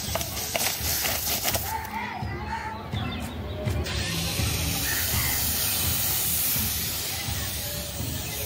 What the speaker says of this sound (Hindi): ये फोम जो है वो बाहर आने लगा है।